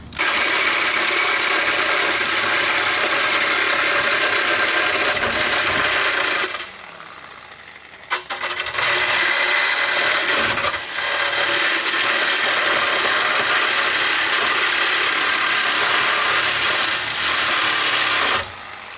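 A muffler pipe being worked off a lowered Lexus GS430 during a custom exhaust job, with a loud, continuous power-tool roar that briefly drops away mid-way before resuming at full volume.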